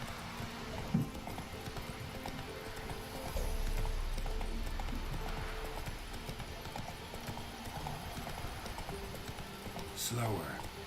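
Hooves of the horse Roach clip-clop steadily at a gallop in The Witcher 3, a continuous rhythmic patter over game ambience, with a brief whinny or snort near the end.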